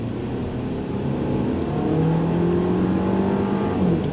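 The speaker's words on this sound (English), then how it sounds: "let's go on throttle on the highway and see how it goes." A 2026 VW Tiguan SE accelerating on a highway, heard from inside as a loud, steady engine drone that climbs slowly in pitch, with road and wind roar throughout.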